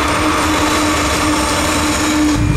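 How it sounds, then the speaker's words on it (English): A train rolls past at a rural road crossing, a loud, steady broadband rumble with a sustained tonal hum, continuous and close for the whole stretch, with no voices. "All right, so there's a train coming."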